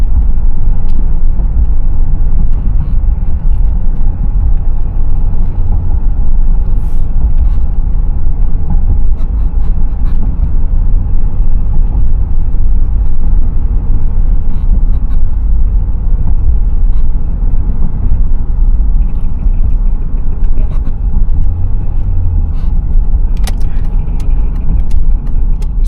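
Steady low rumble of a car engine and road noise from inside a moving vehicle, even and unbroken with no speech.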